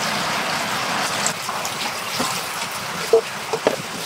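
Cut pangas fish being washed by hand in water in a home kitchen: a soft, continuous splashing trickle close by, with a few small knocks and splashes toward the end.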